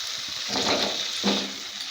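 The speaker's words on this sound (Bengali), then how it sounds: "মশলাটা কষানো হয়ে গেছে আমি এখন আলুগুলো দিয়ে দেব" Potatoes tumble into a pan of fried spice paste while cooking Bengali dhokar dalna, giving a brief wet sizzle and hiss that swells twice over two seconds, with no voices.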